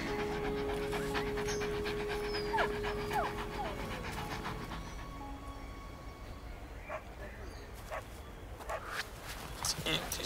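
A dog pants close by in quick, rhythmic breaths, with footsteps and people speaking over and around it.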